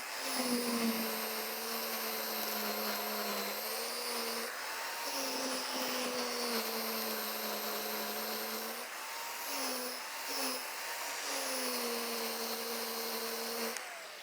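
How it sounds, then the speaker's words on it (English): A 20-inch Yardworks reel mower set to its lowest 1-inch cut runs across a lawn, giving a steady whirring hum with shifting tonal bands as passes speed up and slow, loud and continuous without talk. "I'm going to show you a few passes now using this is a 20-inch Yardworks reel mower"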